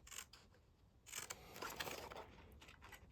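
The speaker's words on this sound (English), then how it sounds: "just cut off those V shapes" Scissors cutting V-shaped notches into paper while making a scrapbook album, several short crisp snips and paper rustles close to the mic, with no talking.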